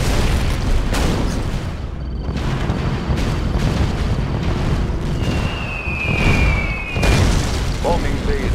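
Kirov airship bombs detonating in Red Alert 2, a loud rolling series of booming blasts with rumbling bursts and little pause, with voices talking in the clip.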